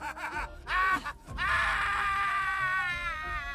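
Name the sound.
man's anguished scream in video game Divinity: Original Sin 2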